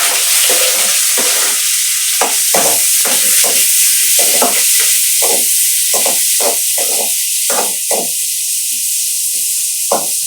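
Onions fry in a pan for a palak paneer gravy with a constant close sizzle, while a spatula stirs them in regular scraping strokes throughout.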